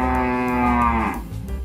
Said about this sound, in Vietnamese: Con bò.